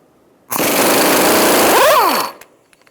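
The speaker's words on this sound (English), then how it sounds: "we're going to use a 29mm socket, and we're going to undo our axle nut." An impact wrench with a 29mm socket undoes the front axle nut on a 2000-2007 Ford Taurus in one loud, close rattling burst of about two seconds, winding down at the end, followed by a few faint clinks.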